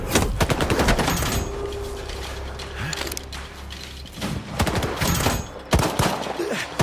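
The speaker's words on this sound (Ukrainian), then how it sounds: "Чому по нас стріляють?" Bursts of rapid gunfire in S.T.A.L.K.E.R. 2 crackle repeatedly amid mechanical clatter and creaking, loud and busy with no pause.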